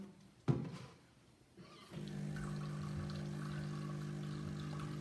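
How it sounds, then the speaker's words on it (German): A Jura Z6 coffee machine, during milk-system cleaning, starts up after a couple of clicks and pumps water into a container of cleaning liquid, a steady close mechanical hum with a low tonal drone. "die Maschine pumpt jetzt erst Wasser in diesen Behälter rein, wo wir schon die Flüssigkeit drin haben"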